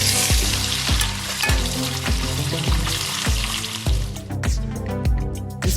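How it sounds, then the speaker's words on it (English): Beef frying in coconut oil in a pot, a loud continuous sizzle with rhythmic stirring scrapes and clatter throughout, no talking. "Into another pot, I have added coconut oil. We are going to fry the beef until it is brown."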